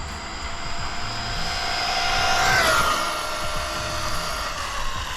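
An Arrma Typhon XL RC car with a sensored Castle electric motor gives a high whine that rises and falls as it speeds past, loudest midway, with steady outdoor background noise and no talking.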